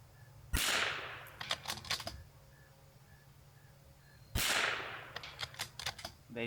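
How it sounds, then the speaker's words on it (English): Two sharp rimfire shots from a Voodoo 360 precision rifle at 50, each a loud close crack followed by brief clattering of the action, several seconds apart. "Voodoo 360, we're gonna shoot this at 50 just to check"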